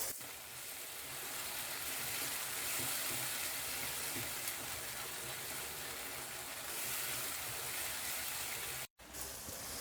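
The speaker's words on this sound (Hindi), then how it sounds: "2 अदद टमाटर, टमाटर के सॉफ्ट होने तक हम इसको भून लेंगे" Tomatoes fry in a pan until soft, giving a faint, steady sizzle with an even hiss and no talk, cut by a brief dropout near the end.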